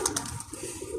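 Domestic pigeon of an Iraqi breed cooing up close, a soft low throaty coo rolling through the second over a steady background hum.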